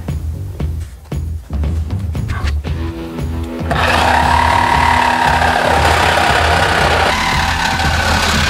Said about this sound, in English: I'm going to start by cutting the old tailpipe off.